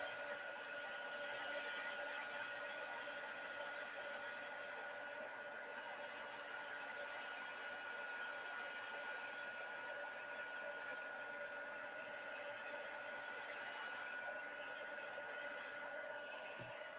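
A heat embossing tool warms embossed powder on tea light packaging, giving a steady, fairly loud whirring blower hiss that runs without a break from start to finish.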